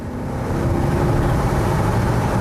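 Car engine with the sound composer turned off, a restrained, steady low rumble that swells slightly as the gas pedal is tapped, heard close and alone.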